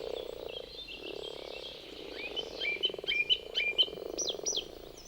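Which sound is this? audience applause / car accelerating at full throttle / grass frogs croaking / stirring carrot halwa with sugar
grass frogs croaking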